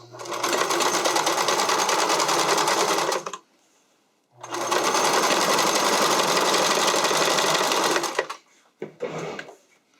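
A sewing machine stitches elastic onto figure-skating skirt fabric in two long, loud continuous runs separated by a short pause, then a brief final burst.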